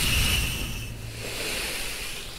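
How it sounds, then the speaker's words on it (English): A steady airy hiss of a steam iron runs throughout, loudest at the start and then settling into a softer continuous rush, with no talking. "It is the hiss of a steamy iron."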